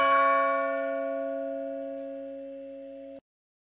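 A single church bell struck once, its strong steady tone ringing out alone and slowly decaying for about three seconds before cutting off abruptly.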